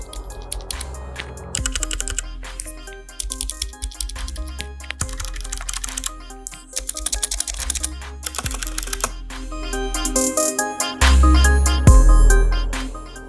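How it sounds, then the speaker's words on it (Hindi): Typing on a Cosmic Byte CB-GK-18 mechanical keyboard with red switches, compared with a membrane keyboard: bursts of close, crisp key clacks in uneven rhythm, with a louder thumping flurry near the end. "तो चलिए अब हम इस कीबोर्ड के साउंड को आपको एक मेम्ब्रेन कीबोर्ड के साउंड से कंपेयर करके सुनाते हैं"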